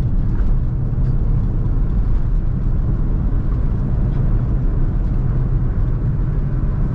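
Steady low engine and road rumble inside a moving Honda Brio, a constant droning cabin hum with no talking.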